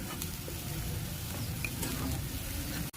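Onions sizzle in a pan over a medium flame with a steady crackle and occasional stirring scrapes; a brief clatter near the end.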